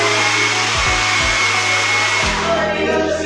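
A hair dryer blower runs in a hotel bathroom, a steady, loud, continuous whirring rush with a low hum throughout and no talking.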